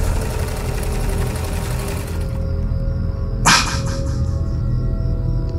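A sewing machine whirs in a radio horror story, a steady close mechanical drone that shifts tone midway, broken by one sharp snapping hit before the hum resumes.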